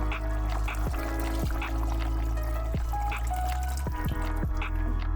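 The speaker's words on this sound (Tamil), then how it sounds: "இப்போ வந்து திக்பாலையும் சேர்த்துடலாம்." Thick coconut milk is poured into a simmering raw jackfruit curry, making a steady liquid pour with scattered drips and soft splashes against a constant kitchen hum.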